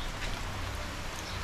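A dense, even hiss of rain falls on a surface, continuous and fairly close, with no voices or other distinct sounds, as a typhoon approaches.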